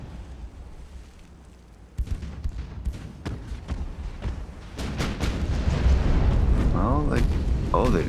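Booming explosion as a rear main gun turret is destroyed in the Ultimate Admiral: Dreadnoughts naval battle game, a sudden blast followed by rolling rumbles and further crashes that build louder over several seconds.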